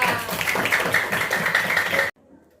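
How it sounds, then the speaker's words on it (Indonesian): Students in a classroom clapping for group five, a brisk, fairly close burst of many hands with a shrill tonal layer on top, lasting about two seconds before stopping abruptly into quiet. "Tepuk tangan untuk kelompok 5."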